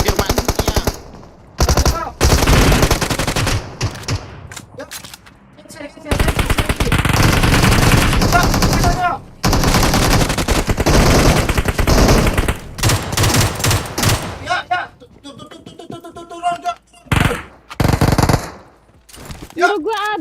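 Thompson submachine gun fire in PUBG Mobile, long loud automatic bursts of rapid shots broken by brief pauses, with voices talking in between.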